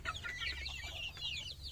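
Chickens fed fermented bran and ground corn cluck in a farm pen, several birds making overlapping soft clucks and trilling calls close by, over a steady low hum, with no talking.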